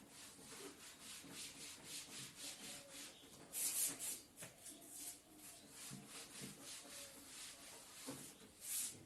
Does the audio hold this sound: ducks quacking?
no